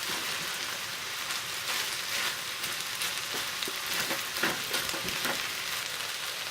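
Ground turkey frying in a pan with a loud, steady, close sizzle and crackling spatter throughout, with no talk.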